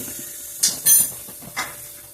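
Mustard seeds hit hot oil in a pan while milagu kuzhambu is being cooked, giving a few short, bright bursts of hissing sizzle over a quiet background.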